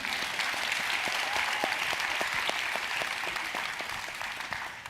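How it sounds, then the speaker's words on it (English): Summit audience giving a big round of applause for the guest speakers, loud sustained clapping from many hands with a few sharper individual claps standing out, fading slightly at the end. "please give them a big round of applause"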